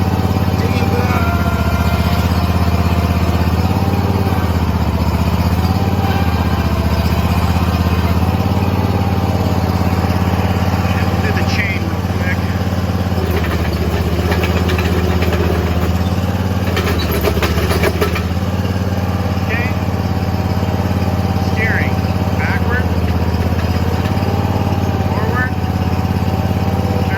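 The engine of a Barreto 20RTK trencher runs steadily at close range, a loud continuous droning with no letup. A person talks now and then over the noise.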